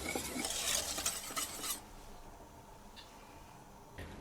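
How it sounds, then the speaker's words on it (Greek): Spoon stirring custard cream in a pot on the stove, a busy scraping and clinking stir for the first couple of seconds, then quieter with a few faint taps, no talking. "συνεχίζουμε το ανακάτεμα"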